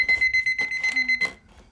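An alarm clock rings in an anime, with rapid, loud, repeated electronic beeps pulsing steadily for about a second and a half before fading.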